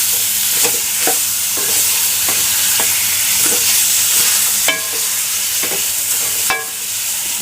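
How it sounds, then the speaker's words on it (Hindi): Chicken meat for a desi chicken curry being fried and stirred in a pot: loud, continuous sizzling with regular scraping clicks from the stirring utensil, paced roughly every second, with no voices heard. "और अब इसको मैं 10 से 15 मिनट तक भून लूँगी ताकि गोश्त की वो स्मेल है वो नहीं आए।"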